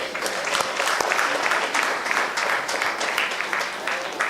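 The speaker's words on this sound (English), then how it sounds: "I think it really requires a big applause" An audience applauds at the Saraswat Chamber annual conclave in Goa, a steady crowd of hands clapping densely and evenly for several seconds, fairly loud, with faint voices mixed in beneath the clapping.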